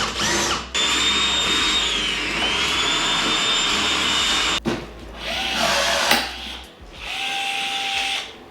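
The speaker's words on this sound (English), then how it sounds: "if you're wondering if I bought a rivet gun just to do the bumper" Power rivet tool fastening the plastic bumper on a 2023 Gen5 Turbo R snowmobile, a close, loud whirring whine running in long sustained bursts with brief gaps and a sharp cutoff near the middle.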